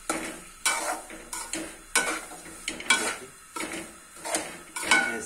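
Semolina roasting in desi ghee over low heat for halwa, stirred steadily with a utensil: a series of rhythmic scraping strokes roughly every half second, close and moderately loud, with a faint sizzle underneath and no talking.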